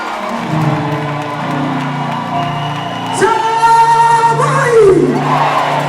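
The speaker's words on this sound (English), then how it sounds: "With a round of applause, let's welcome Empress Gifty." A crowd at a political launch event cheers, whoops and shouts in welcome of a stage performer, a loud sustained roar that swells over the last few seconds with individual yells rising above it.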